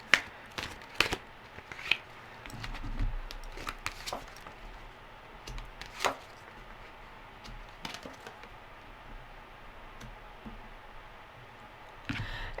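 Gilded Tarot cards being shuffled and handled, soft papery riffles and sharp clicks and snaps in irregular bursts, close and fairly quiet, with pauses between handfuls.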